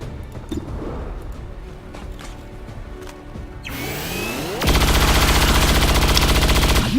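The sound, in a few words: gunfire shots in the video game XCOM 2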